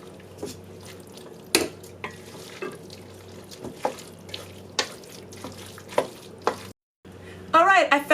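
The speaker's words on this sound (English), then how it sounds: "Now we're going to go ahead and we're going to stir it real well." Shredded cheese being stirred in a pan with a spoon, producing repeated scraping clacks and light sizzling, with a brief drop-out and a clattering burst near the end.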